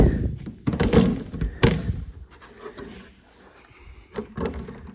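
A heavy rear cargo door of a large aircraft thunks open with a couple of solid knocks and mechanical clunks, followed by quieter rattling and a final thud.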